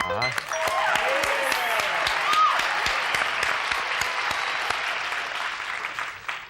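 Studio audience on a television game show applauding, dense steady clapping with scattered sharp individual claps, loud and sustained throughout with faint voices underneath.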